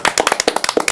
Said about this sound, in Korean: 우리가 격려의 박수 한번